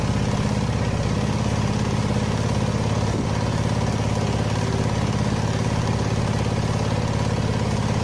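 Yamaha Mio Sporty scooter engine running after a carburetor air-screw adjustment, a steady, close, buzzing idle held at constant revs throughout with no talking.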